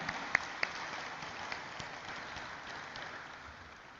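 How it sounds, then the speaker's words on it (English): An audience at a stock exchange IPO listing ceremony for Indiqube Spaces gives a soft round of applause, a faint, even patter of clapping with a couple of sharper claps early on, gradually fading. "One more round of applause,"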